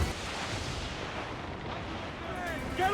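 In Assassin's Creed IV Black Flag naval combat, ship cannons fire as a dense, continuous rumbling barrage of booms, with faint voices shouting beneath the roar.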